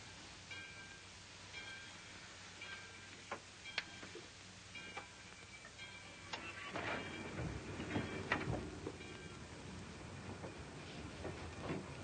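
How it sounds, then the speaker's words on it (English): A train starts to move in a film scene, with faint rhythmic ticking and clicking at first, then a low rumble that swells and grows louder and rougher toward the end. "Roger, the train's moving."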